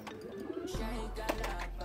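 Racing pigeons cooing in a loft, soft throaty coos close by over a steady low hum, one bird with wire caught on its foot.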